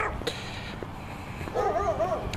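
Dogs barking and whimpering at a moderate distance, a few short yips and barks over a steady indoor background, with a louder cluster of whining toward the end.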